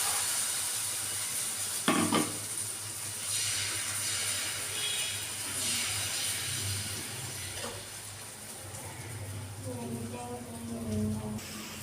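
Batter rolls (gola ruti) with carrot and onion fry in a little oil with a steady hiss and sizzle, and a person talks over it.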